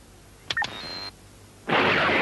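Electronic detector beeps in an animated Transformers cartoon: a couple of short bleeps followed by a sustained tone, then a burst of hissy noise near the end, with no voices.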